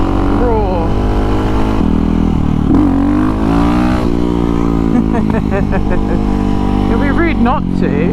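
A CCM Fleet motorcycle, a raw bike with no ABS or traction control, riding on a road; its engine drones loud and close, pitch rising and falling through gear changes while a rider talks over it.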